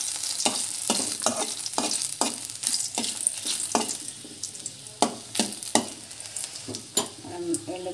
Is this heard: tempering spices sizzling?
yes